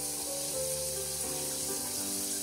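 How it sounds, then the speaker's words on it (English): Water streams steadily from an Edwardian shower and splashes down into the drain, a constant hissing spray with a low gurgling undertone, close and unbroken. "It's really, really quite a pleasant stream, and drains nicely into our drain."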